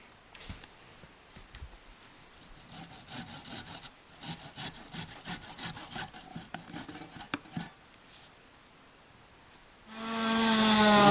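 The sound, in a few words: sawing wood by hand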